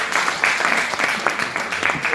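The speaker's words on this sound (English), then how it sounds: "A round of applause for Virginia, ladies and gentlemen" An audience claps for Virginia at the Aasha cancer screening and prevention forum, a dense, steady patter of hands holding at an even level for the whole stretch.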